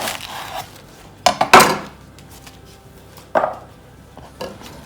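A knife chops iceberg lettuce on a cutting board with a few sharp, close strikes: a pair near the one-second mark, a louder burst just after, and two more cuts later, over faint kitchen background.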